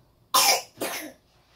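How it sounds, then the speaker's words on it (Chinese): A child gives two close, wet coughs with phlegm, the first sharper and louder, the second softer and trailing off, in a quiet room. "你看你咳嗽还有痰呢，没有全好"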